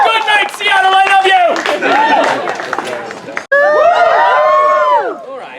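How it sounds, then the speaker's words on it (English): A theater audience cheers, whoops and claps in a loud, close burst, with a brief pause and then a second swell of voices and applause. "You may cheer now."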